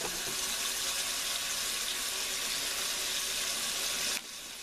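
A kitchen tap runs steadily with warm water being measured out to half a cup, a loud continuous gushing stream that cuts off abruptly near the end.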